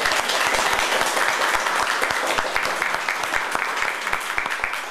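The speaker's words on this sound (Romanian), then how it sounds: "pe care vreau să-l primim cu aplauze" An audience in a county museum hall applauds to welcome the British ambassador, steady sustained clapping from many hands, even and fairly loud with no pauses.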